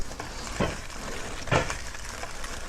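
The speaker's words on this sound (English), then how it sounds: "we got our bacon cooking up nice here" Bacon and tater tots frying together in a pan, a constant crackling sizzle heard up close, with two brief louder scrapes or shuffles of the food partway through and no talking.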